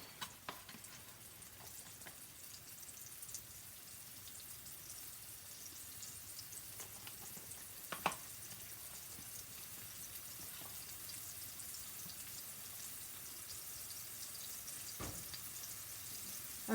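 Steady, faint sizzling of oil in a hot pan, a continuous crackling hiss with a few sharper pops, no voices.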